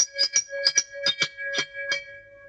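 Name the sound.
recorded traditional doorbell chime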